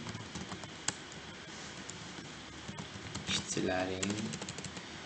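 Keystrokes on a computer keyboard while entering data into an Excel spreadsheet, a steady patter of close, light clicks with a brief louder burst of activity near the end, and no talk over it.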